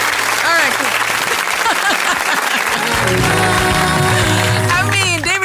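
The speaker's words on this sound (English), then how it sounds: "David, give yourself a round of applause, please, for keeping the tempo on the show so wonderful" Audience clapping for David, a studio host on a Saturday show, loud and continuous, with music and tonal voices running over it and swelling toward the end.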